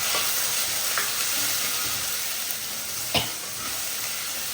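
Curry leaves, crushed chillies, ginger and shallots fry in a pan with a steady hiss and sizzle, broken by a few sharp spits and pops, close up.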